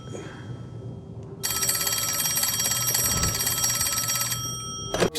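Old-fashioned telephone bell ringing in a scene from the TV series Peaky Blinders: a loud, continuous metallic trill that starts after a quiet moment, rings steadily for about three seconds, then cuts off.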